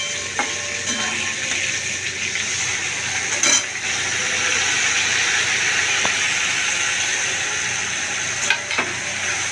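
Tomato stirred and fried in a pan for a Bhola fish curry: steady loud sizzle and hiss throughout, with a few scraping stir strokes and light clinks, no talking.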